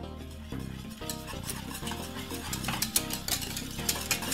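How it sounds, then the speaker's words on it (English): Cornmeal porridge is stirred in a pot on the stove, with a spoon scraping steadily and rhythmically against the pot under a soft bubbling simmer. "give it a stir, and stir it until it gets cooked for roughly about 10 minutes"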